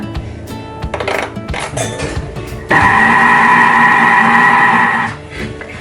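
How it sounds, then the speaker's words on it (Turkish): A Thermomix food processor starts up and mixes chocolate cake batter, a loud steady motor whir lasting a few seconds after some clinking handling noises, then cutting off. "Thermomix'ini çalıştıralım. 5 dakikaya."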